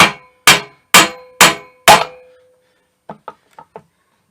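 A large socket is hammered to drive a U-joint bearing home. Five loud, evenly spaced metallic clangs ring out up close, then four lighter taps follow.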